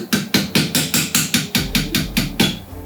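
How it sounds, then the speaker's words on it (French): A light hammer taps a 2.3 mm nail about a dozen times in a quick, even rhythm while assembling a knife blade, each strike sharp and metallic, close and fairly loud. "vous pouvez tapoter légèrement au marteau"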